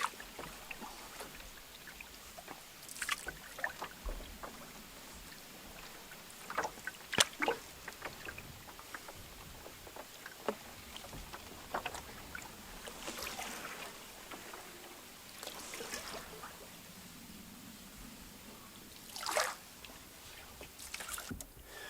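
Canoe paddle strokes dip and splash in calm lake water at an uneven pace, with soft drips and gurgles close by and no talking.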